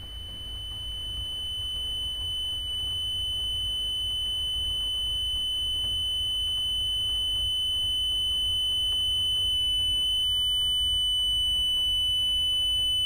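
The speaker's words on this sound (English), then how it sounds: "I don't know what to make of the ringing" A continuous high electronic alarm rings steadily and loudly for the whole stretch over a low rumble, heard in a horror video game featuring a nun.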